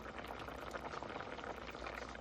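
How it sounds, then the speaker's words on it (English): Water boiling in a pot on the stove for a one-pot Jamaican curry chicken with dumplings, a dense, continuous bubbling and rolling simmer heard close and alone. "once that water starts boiling, I'm gonna add some spinach to the pot."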